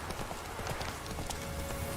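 Roach the horse galloping in The Witcher 3: a quick, steady clip-clop of hooves under a busy game soundscape, faint and continuous across the whole moment.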